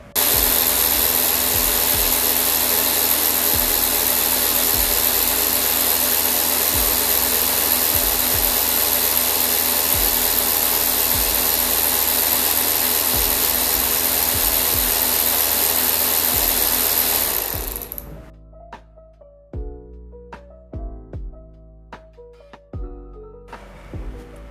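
A Nagawa NRW16K cordless ratchet wrench spins freely with no load, a steady loud whirring whine with a faint periodic clicking that runs for most of the stretch, then cuts off into quieter knocks and handling clatter.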